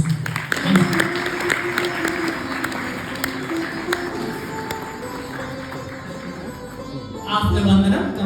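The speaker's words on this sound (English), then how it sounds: "Give them a big round of applause once again." An audience at a devotional lecture on Navadha Bhakti claps for children, a broad, steady wash of applause in a hall, with a speaker's voice heard at the start and again at the end.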